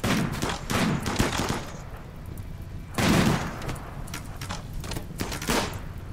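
Enemy gunfire in a RimWorld battle, with several separate bursts of shots at moderate volume spread across the stretch, broken by short pauses.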